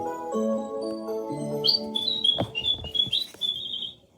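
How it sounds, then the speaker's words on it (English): Whistled bird song with chirpy up-and-down notes over a soft musical backing, bright and close, ending with a sustained high trill. "He was so happy he had to sing. This was Mr. Bird's song"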